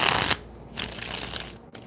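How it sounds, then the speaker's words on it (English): Tarot cards being shuffled by hand, a close riffle and flutter of card stock that opens loudly and then continues as softer, uneven shuffling. "Give me one more shuffle."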